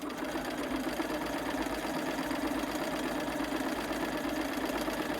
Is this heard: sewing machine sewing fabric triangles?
yes